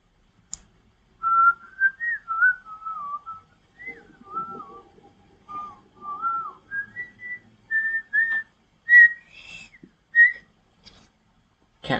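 Someone whistles a wandering melody alone, clear and fairly close, in short phrases separated by small pauses.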